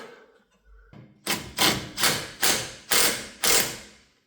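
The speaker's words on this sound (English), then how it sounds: "Reinstall this sway bar link." Six evenly spaced, loud ratcheting bursts from a wrench reinstalling a sway bar link on a BMW E93 convertible, each stroke close and sharp, following a brief quiet handling noise with no talk.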